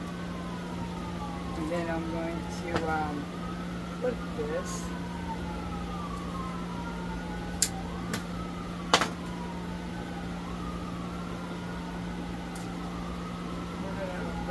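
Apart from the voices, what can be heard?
siren passing outside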